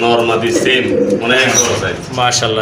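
Show-quality pigeons, including fancy breeds at a sale, coo in soft throaty murmurs under continuous loud nearby talk that dominates throughout.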